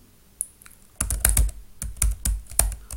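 Computer keyboard typing while Excel macro code is entered, a close burst of quick, uneven keystrokes with short pauses between clusters, no voices.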